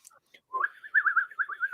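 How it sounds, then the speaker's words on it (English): An Irish whistle plays a short run of bright, breathy melodic notes, about half a dozen in quick succession, close and fairly quiet with no voices. "An Irish whistle."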